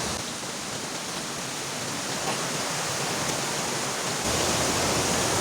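Water gushes steadily over a waterfall as a broadband rush, close and loud, swelling slightly toward the end with no voices.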